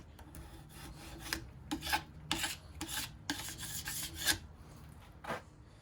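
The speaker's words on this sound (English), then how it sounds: "until I can't really feel it when I'm scraping" Scraper drawn across a ski base during a base repair, giving a series of rasping strokes in an irregular rhythm, close and moderately loud, no talking.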